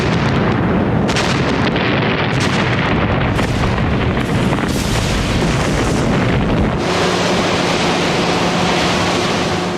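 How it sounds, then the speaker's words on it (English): Carrier-based aircraft bomb Pacific atolls in 1943, heard as a dense, loud roar of explosions and rumbling blasts with sharp booms breaking through a constant wall of noise. "For a week, the atolls were bombed by carrier-based aircraft."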